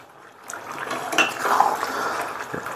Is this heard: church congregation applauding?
no